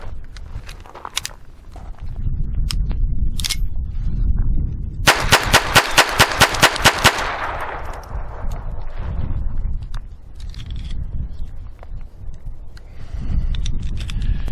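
Around ten sharp, evenly spaced shots fired in quick succession from a Phoenix Arms HP22A pistol loaded with .22 rounds, loud and close, with quieter handling noise before and after.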